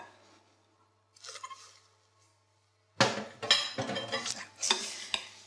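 Egg whites are folded into a chilled lemon soufflé mixture in a bowl: a brief soft scrape, a pause, then several seconds of busier, louder stirring and scraping against the bowl, with no talk.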